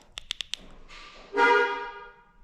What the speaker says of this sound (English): if I double lock, we should hear the car honk